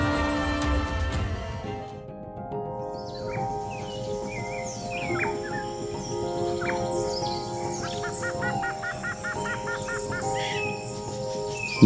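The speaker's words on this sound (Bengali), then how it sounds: "নানান পাখিদের দেখা মেলে ডুয়ার্সের আনাচ কানাচে" Several birds call in a Dooars forest, with repeated chirps and a few harsher caws, some near and some distant, over a steady layer of ambient noise.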